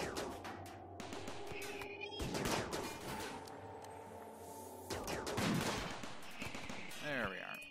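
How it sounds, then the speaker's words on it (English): Colonists in the Rimworld video game fire at a ship, producing bursts of rapid game gunfire in several volleys with short pauses, mixed with synthetic impact and mechanical effects. "So let's have you guys fire at the ship too"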